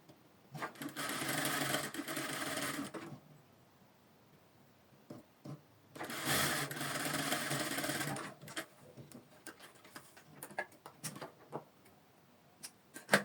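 A sewing machine joins fabric for a V-neck top with side cowl, running in two steady stitching bursts of about two seconds each. Quiet clicks and fabric handling fill the gaps between them.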